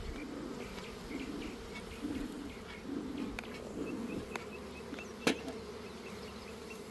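Honeybees buzzing around a hive during routine maintenance, a continuous close hum of many insects with a few faint clicks and one sharp tap.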